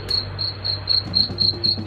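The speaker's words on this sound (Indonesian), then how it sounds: "seperti ini suara jangkriknya." Rapid electronic cricket chirps from a homemade rat repeller pulse steadily in short bursts, loud and close, over a constant low hum.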